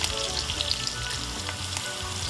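Onions sauté in a pot with a continuous close hiss and crackle, fairly even throughout and with no voices over it.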